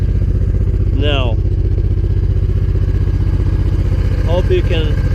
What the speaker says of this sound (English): The RPM of the engine is quite high now.